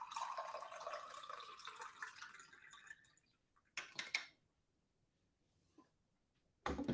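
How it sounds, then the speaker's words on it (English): Cold brew coffee is poured into a glass, a close trickling stream that fades out after a few seconds, followed by a couple of short clinks and splashes of handling. "then we'll just pour it out. And I'll pour it into something glass so you can actually see it"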